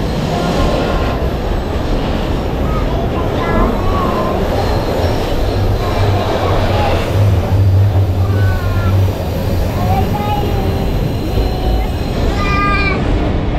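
A GE freight locomotive of the Rumo railway rumbles steadily past at close range hauling container wagons, a continuous heavy roar with faint squeals and clanks over it for the whole stretch.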